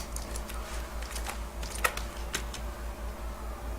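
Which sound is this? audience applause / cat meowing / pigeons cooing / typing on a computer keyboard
typing on a computer keyboard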